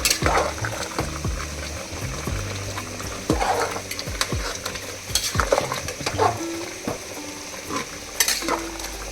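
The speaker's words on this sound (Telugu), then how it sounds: "మసాలా అంతా ముక్కలు పట్టే విధంగా ఒకసారి బాగా కలుపుకోవాలి." Masala paste gets stirred into mutton curry in a hot pan, with repeated scraping strokes of a utensil against the pan and occasional clinks over a continuous sizzle, loud and close with no talking.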